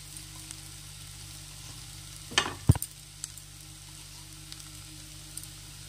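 Egg-potato cutlet mixture with spices fries quietly in a pan, a faint continuous sizzle broken by a brief cluster of spatula scrapes and knocks in the middle.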